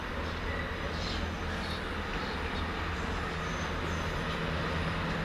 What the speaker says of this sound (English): Wonder if it's going to be a Paddington train